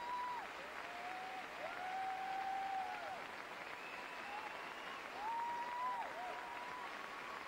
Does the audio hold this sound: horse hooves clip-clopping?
no